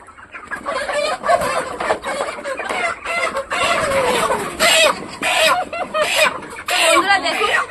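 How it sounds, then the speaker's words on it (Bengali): A large chicken clucks and squawks in repeated loud, close bursts, with agitated fowl calls continuing throughout under people talking nearby. "ওই একটা দাঁড়িয়েছে এই একটা বড় মুরগি"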